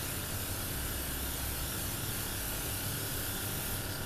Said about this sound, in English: And I'm gonna start spraying evenly all over my skin.